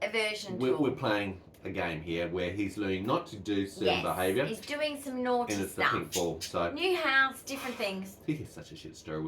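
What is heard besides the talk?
None of the usual background noises is heard.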